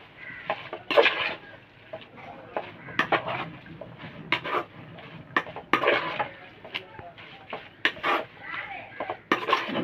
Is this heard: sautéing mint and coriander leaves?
yes